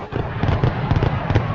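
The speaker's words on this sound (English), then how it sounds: "There was a bumper, and now there's fireworks" Fireworks crackle and pop in quick bursts as a sound effect in a show bumper, loud and close over a short stretch with a rumbling low layer underneath.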